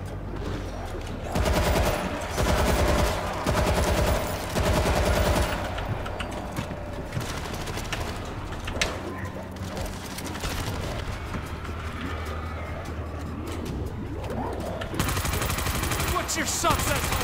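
Gunfire in the zombie shooter game World War Z comes in dense automatic bursts and scattered shots, loud and sustained, with a player's voice breaking in between volleys.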